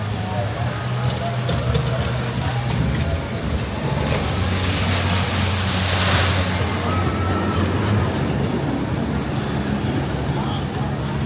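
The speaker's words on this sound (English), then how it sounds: "Even though there were only 2 people in that boat, it made a pretty big splash" A water ride boat carrying two people at California Great America plunges down into the water, a broad rushing splash swelling near the middle amid steady wind and churning water, with a faint voice under it.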